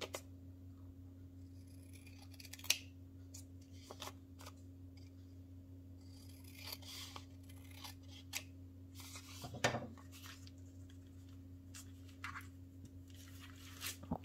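Scissors snip along the edges of a handmade junk journal notebook, a series of sparse, quiet clicks and crisp cuts spread out over a steady low electrical hum.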